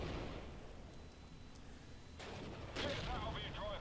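Cannon shots from tanks, including a Panzer IV and Wolverine tank destroyers, ring out in the WWII strategy game Steel Division: Normandy 44, with two sudden loud blasts and a rumbling tail over quiet background noise.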